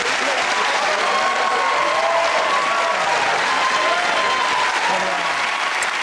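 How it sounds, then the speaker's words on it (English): Studio audience of a comedy panel show cheering and applauding the winning team, a thick, continuous roar of clapping and whoops at steady high volume. "cheers and applause to our winners"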